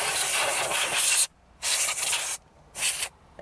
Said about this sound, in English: I'm just going to spray everything